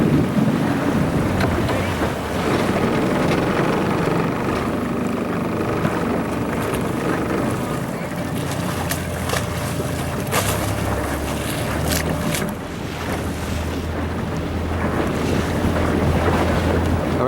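A sailboat runs downwind in strong wind, with continuous rushing wind buffeting the microphone over the wash of water against the hull, steady and loud throughout.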